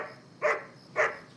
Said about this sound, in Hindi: अरे क्यों भौंक रहा है?